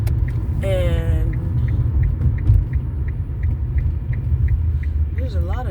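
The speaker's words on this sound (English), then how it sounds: "there's a lot of traffic." Heavy road traffic heard from inside a car as a constant low engine and road rumble, with a faint repeating tick and a brief whistle-like tone over it.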